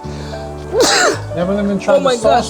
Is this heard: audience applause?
no